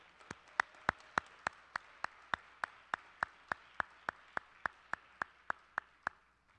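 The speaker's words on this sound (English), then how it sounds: "let's give them a round of applause for signing their national letter of intent" A single person claps at a steady, even pace, about twenty sharp claps close by in a quiet room, honoring students signing national letters of intent at a fall signing day event.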